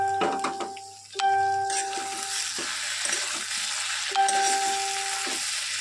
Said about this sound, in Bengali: দিয়ে একটু ভালো করে নাড়াচাড়া দিয়ে মিশিয়ে নিই